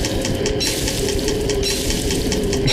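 In the survival game Don't Starve, food cooks over a fire with a constant loud sizzle and crackle, steady and unbroken, and no voices over it.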